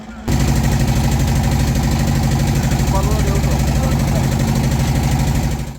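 Small trawler boat's engine running loud and close while travelling along a river in the Sundarbans, a steady rhythmic thumping drone that starts abruptly and continues throughout.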